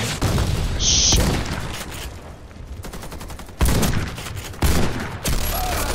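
Rapid bursts of machine gun fire from the Warface video game crackle loudly in several volleys, broken by brief pauses, with a short high-pitched tone early on.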